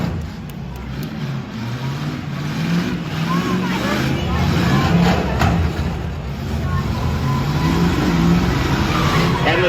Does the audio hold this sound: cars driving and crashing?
yes